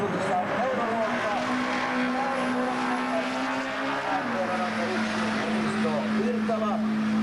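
A 1975 Ford Escort race car at a street race drives with a steady, loud engine drone that holds a constant pitch and shifts slightly midway, while a commentator talks over it.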